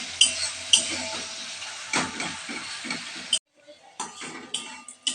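Ginger paste sizzles and is stirred in a pan for an egg curry, with scraping and clinking of a utensil against the pan in bursts, a short pause, then more stirring; a voice talks over part of it.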